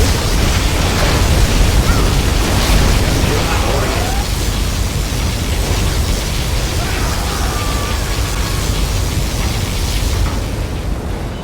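A particle cannon fires in the real-time strategy game C&C Generals Zero Hour, a loud, dense, continuous roaring blast that fills the whole span and tapers off slightly at the end.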